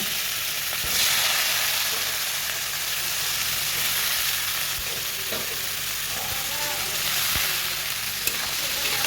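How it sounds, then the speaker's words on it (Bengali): Onions fry in hot oil with cinnamon, cloves and cardamom, giving a loud, continuous sizzle. Occasional stirring clicks sound over it, and no speech is heard. "এবার দিয়ে দিব পেঁয়াজ পেঁয়াজটাও দিয়ে দিলাম"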